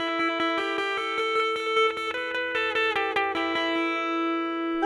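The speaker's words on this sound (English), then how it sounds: "Now let's try the Echo Square." An Echo Square effects pedal run on an unusual instrument: a bright plucked, sustained melodic line of quickly repeated notes with pulsing echoed repeats and a ringing tail, heard alone without talk.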